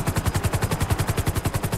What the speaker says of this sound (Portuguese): foi só um disparo seco